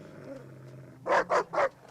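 Three loud, evenly spaced barks from a dog in a horror film scene, sharp and close, standing out over a low steady background hum.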